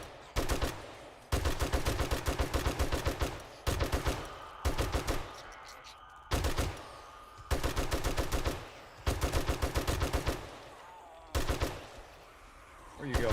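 In the zombie survival game 7 Days to Die, a rapid automatic weapon fires bursts of gunfire at zombies from a desert base. The close, loud volleys come in several long rhythmic strings broken by brief pauses.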